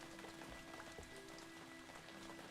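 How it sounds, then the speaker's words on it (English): Steady sideways rain in the video game Operencia, a soft, even patter of drops on a surface, faint and unbroken, with a low tonal hum underneath. "this sideways rain thing is really weird"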